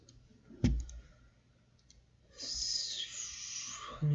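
A computer mouse gives a single sharp click, then a faint quiet stretch and a few soft clicks follow, with a brighter rustling burst near the end; no one speaks.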